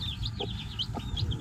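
Newly hatched baby chicks peep in a steady run of high, rising chirps, close by and fairly loud, with faint low rustling underneath and no talking.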